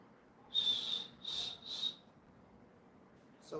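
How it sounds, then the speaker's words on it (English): A person whistles three short, clear high notes close to the microphone, then pauses before a brief fourth whistle begins. "Can you whistle?"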